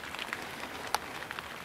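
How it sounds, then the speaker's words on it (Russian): Steady patter of rain on a surface with occasional louder drops, soft and close, no voices. "что-то дождь-то расходится"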